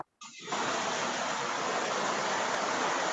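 Rain pouring down in Barbados as a dense, steady broadband hiss that swells in after a brief quiet start and continues unbroken, loud and close, with no voices.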